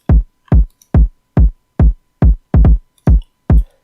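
Punchy electronic kick drums thump in a steady beat for a trap-style instrumental, about nine deep booming hits, with a quick doubled kick slipped in just before one backbeat; loud, close and alone.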